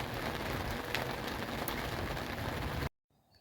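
Gentle rain patters steadily for a few seconds, then cuts off abruptly to near silence.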